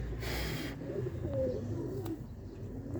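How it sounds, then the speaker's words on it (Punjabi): Rooftop pigeons cooing nearby, a low throaty murmur repeating softly under faint ambient noise, with a brief rustle near the start and no talk. "ਇਹ ਛੱਤ ਵਾਲੇ ਕਬੂਤਰ ਨੇ"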